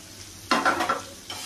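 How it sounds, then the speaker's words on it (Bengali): Grated onion drops into hot butter in a pan and bursts into a loud, close sizzle that settles into steady frying crackle, with a brief flare of fresh sizzling near the end. "কারণ বাটারটা গরম হয়ে গেছে। তার মধ্যে আমি দিচ্ছি পেঁয়াজ, গ্রেট করা পেঁয়াজ।"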